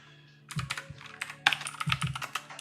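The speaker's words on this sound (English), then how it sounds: "I'll just kind of type it out here" Keys on a computer keyboard clatter in a quick, close burst of taps over roughly two seconds, preceded by a brief quiet moment.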